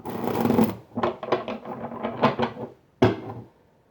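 Close, papery riffling and soft slaps as a deck of tarot cards is shuffled in several quick bursts, ending with one sharp tap.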